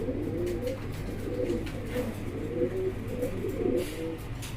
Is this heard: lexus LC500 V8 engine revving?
no